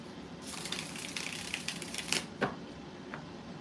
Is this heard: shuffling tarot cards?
yes